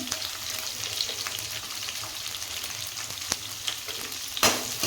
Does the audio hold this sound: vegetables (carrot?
yes